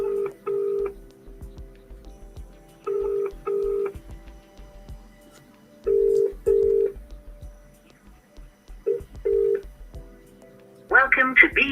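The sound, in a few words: telephone call ringing before voicemail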